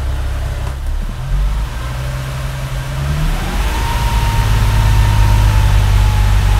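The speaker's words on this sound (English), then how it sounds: "I'm now going to rev the engine to" A Nissan G37/370Z engine idles, then is revved and held steady at about 2000 RPM, a close, loud, even drone that rises in pitch and stays there.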